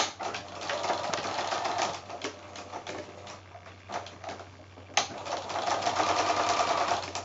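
Sewing machine running steadily close by as it stitches all the way around a small fabric heart ornament, a continuous rapid whirring patter with a brief pause midway before picking up again, no voices.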